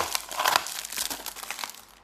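Continuous crinkling and tearing of plastic and tape as a package is pulled open up close, with sharp crackles throughout and no voices.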